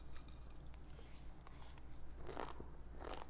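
Crunchy bites of Sukuti Achaar, a Nepali dried-meat pickle, eaten with beaten rice, giving a few quiet close crisp crunches and chewing sounds with no talking.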